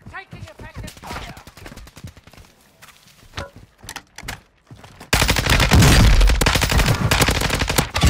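Gunfire in Warzone 2 on Ashika Island, with scattered shots and voice chatter at first, then a sustained loud burst of rapid automatic fire filling the last few seconds.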